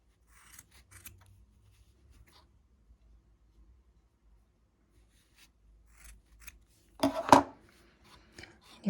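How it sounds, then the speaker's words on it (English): Scissors snipping yarn while finishing a crocheted beanie, with a few faint rustles and clicks followed by one louder close cutting sound near the end. "From other side as well, cut the yarn."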